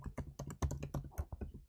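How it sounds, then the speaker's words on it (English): Password being typed on a computer keyboard, a quick run of crisp key clicks and taps at an uneven rhythm, close and fairly quiet, with no voices. "I am typing in a password"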